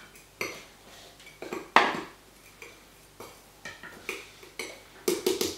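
Rummaging through a protein powder tub for the scoop, a run of sharp plastic knocks, rattles and scrapes at irregular intervals, close by, with quiet pauses between bursts and no talking.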